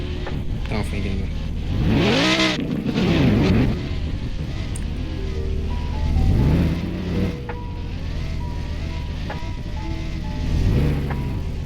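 A car engine revs repeatedly, swelling and falling in several loud bursts over about ten seconds, while people talk in the background.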